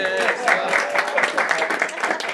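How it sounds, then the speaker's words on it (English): Brief applause for Scott Wilson at a Chattanooga city council strategic planning meeting, a small group clapping steadily and close by for a couple of seconds. "Scott, if you'd like to, you get a clap too"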